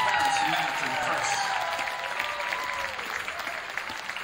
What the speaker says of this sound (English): Let's give her a round of applause along with her parents, Matt and Chris.